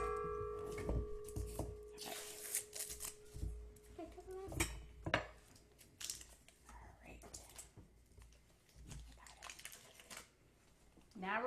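A knife slices through a stick of butter on a kitchen surface, giving a few soft taps and scrapes amid dish clatter, with quiet talk in between.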